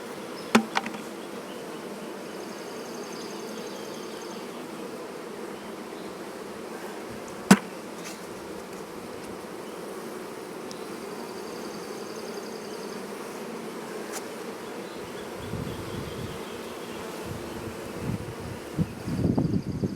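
Bees buzz continuously around a hive built inside a cat house, a soft steady drone close by, with a couple of sharp knocks and some rustling handling noise near the end.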